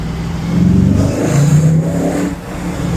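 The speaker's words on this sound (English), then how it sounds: "this thing really is just a beautiful sounding car" An Audi B7 RS4's 4.2L V8 engine revs up loudly and close by, rising twice in pitch before settling back to a throaty idle.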